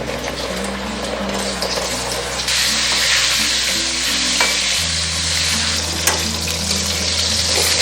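Pieces of Bombay duck fish deep frying in hot oil over medium heat make a loud, steady sizzle with bubbling crackle throughout, with no voices.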